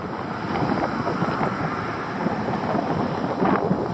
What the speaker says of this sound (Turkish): Rüzgarlandı yine hava.